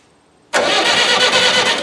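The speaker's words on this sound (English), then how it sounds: "You're going to have to resort to jump starting it. Well, shorting out the start." A Hydrovane compressor motor starts abruptly after half a second of near silence when its starter is shorted out, then runs loud and steady with a dense hum and whine through to the end.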